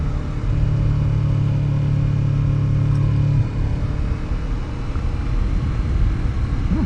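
A Yamaha R3 motorcycle engine holds a steady drone while riding in third gear, a continuous mid-pitched hum with rushing wind noise, loud and close, pitch barely changing across the stretch.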